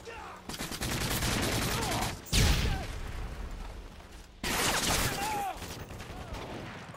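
Rapid automatic gunfire in Call of Duty Modern Warfare 3 multiplayer, loud sustained bursts broken by short pauses and a heavy boom, close and sharp, with occasional player voice underneath.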